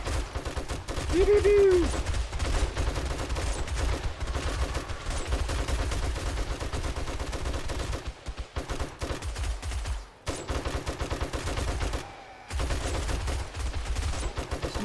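Defensive turrets fire steadily on a horde of zombies in 7 Days to Die, a dense, continuous rattle of rapid gunfire under a busy game mix with a brief sung voice near the start and short drops near the end.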